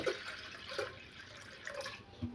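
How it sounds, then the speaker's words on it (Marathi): Water is poured and splashes into a pot of lentils for Maharashtrian bazar amti in a few short gurgling bursts, quiet and close. "याच्या डाळीच्या वरती एक इंच पाणी येईल एवढं आपल्याला याच्यामध्ये पाणी घालायचं आहे"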